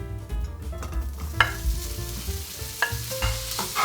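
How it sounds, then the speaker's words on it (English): Ham dropped into hot canola oil in a pan, frying with a steady sizzle and scattered clinks and scrapes of stirring, fairly close and continuous with no talking. "I think the oil is ready, so first I'll put in the ham."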